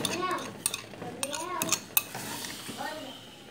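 Rubber spatula stirring thick homemade pé de moleque candy with condensed milk in a pan, giving soft scrapes and a few light clinks of utensils against cookware, with a voice talking over it.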